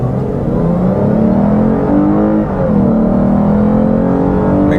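A 2021 Lexus IS 350 F Sport launches hard in sport mode, its engine revving up loudly through rising pitch sweeps with a brief dip at a gear change before climbing again, close and continuous with no talking.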